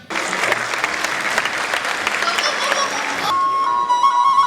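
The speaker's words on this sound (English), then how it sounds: "You can welcome them with a huge round of applause." An audience applauds a children's dance performance at a school annual day, dense clapping filling the room, then giving way to music with a sustained tone.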